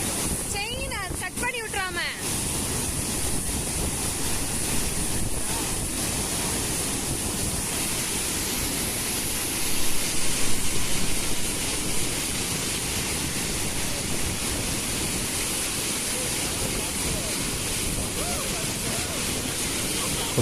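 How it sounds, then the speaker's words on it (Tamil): Water plunging hard over the Ellapatti check dam near Chinnamanur, Theni, a dense, steady roar of falling water that stays loud and close throughout, with a brief voice early on. "நல்லா தண்ணி விழுகுது நம்மளை இழுத்து தள்ளி விடுது அந்தளவுக்கு ஒரு ஃபோர்ஸில் விழுகுது தண்ணி"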